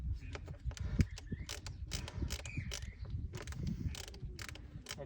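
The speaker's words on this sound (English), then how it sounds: "there's going to be a little screw, and all you're going to do is unscrew" A small screw is worked loose with a cross-tip screwdriver on a saddle fitting, giving faint, close creaks and light ticking clicks in irregular little bursts over a low rumbling background.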